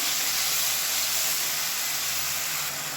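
Onions and tomatoes sautéing in a pan, giving a loud, dense, continuous sizzle and hiss that holds steady throughout with no talking.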